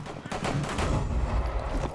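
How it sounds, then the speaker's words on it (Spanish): Video game gunfire, a quick burst of rapid shots in close succession, fairly quiet and blended with busy game noise and talk. "Fijaros la vida que le están quitando ellos a tiros."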